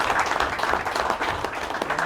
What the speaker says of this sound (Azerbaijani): Birlikdə Şabanı alqışlayaq.